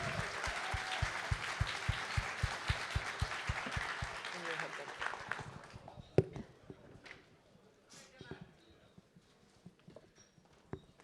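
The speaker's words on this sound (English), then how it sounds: "Big round of applause for Kalle." A conference-night audience applauds as a speaker is called to the stage, a dense wash of clapping that fades out after about four seconds, leaving quiet room noise and scattered small sounds.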